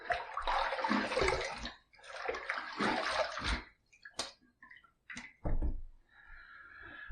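A Timeless TI Slim razor gets rinsed under running tap water in two long gushing bursts, followed by a few taps and drips as the water stops.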